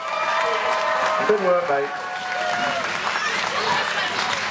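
Crowd applause and cheering at a chilli eating contest at the East Midlands Chilli Fest, a steady wash of clapping under a voice talking over it throughout.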